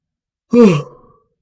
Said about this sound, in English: I'm so sorry to be yawning so much